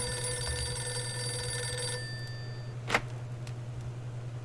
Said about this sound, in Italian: Il telefono che squilla in continuazione.